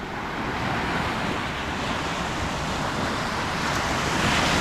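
Ocean surf rolling onto the beach at Stump Pass, a steady broadband wash of waves with wind noise buffeting the microphone, continuous and fairly loud throughout with no talking.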